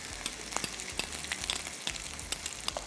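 Onion paste frying in a pan, a soft continuous sizzle broken by regular scraping and stirring taps, fairly faint with no one talking.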